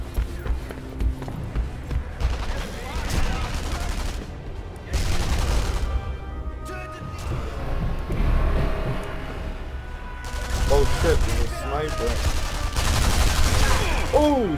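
Sniper Elite V2 gunfire: sharp shots and bursts of fire come in uneven clusters among footsteps and battle noise, loud and close, with occasional voices.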